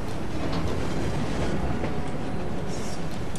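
A train rolls along in the video game Assassin's Creed Syndicate, a loud, continuous rumbling roar with rattling clatter that stays even from start to finish.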